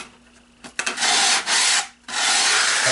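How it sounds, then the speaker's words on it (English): Sandpaper rubs along the exposed edges of a model airplane fuselage in two long, loud, close strokes with a short pause between, after a few light scratches. "you can sand the edges that were exposed a little bit, just to get rid of any glue that might be there"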